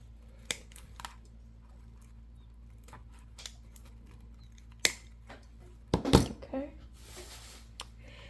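A wire cutter snips the stems of Dollar Tree artificial flowers, giving sharp isolated clicks and a louder crunching cut near the end, with light handling rustle between snips in a quiet room.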